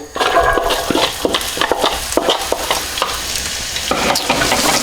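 Onions frying and being stirred in a pan over medium heat, cooked in oil left with seasoned flour, giving steady close sizzling broken by repeated scraping and stirring knocks.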